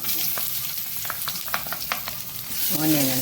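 Onions frying in a pan with cumin for sambar, a steady close sizzle broken by light scraping stirs, rising to a louder hiss near the end.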